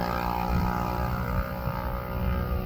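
A Ryanair airliner climbs away from East Midlands Airport toward the cloud base. It gives a dense, continuous engine roar that stays loud and steady throughout, with no voices.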